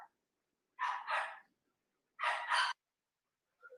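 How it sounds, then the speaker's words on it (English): Small yapping dog barking in a yard, two short double-bark bursts separated by a pause, fairly close and alone with quiet between. "I'm sorry about the yapping dog back there."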